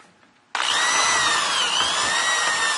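A power drill with a large boring bit cuts through wood, starting abruptly after a quiet moment and then whining at a steady, loud, close pitch as shavings come off.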